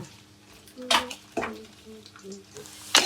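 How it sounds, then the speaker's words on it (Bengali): Fish frying in a pan crackles softly underneath, broken by a few sharp utensil scrapes and clinks against the pan, with faint voice-like tones in the background. "বন্ধুরা মাছগুলো ফ্রাই হয়ে গেছে"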